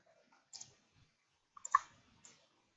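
A computer mouse clicking while working in an Excel spreadsheet, giving a few faint, sparse, close clicks spread over a quiet background.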